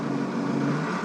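A Michigan L30 loader's rebuilt Perkins diesel engine runs steadily at about half throttle, a constant close, throaty drone with no pauses.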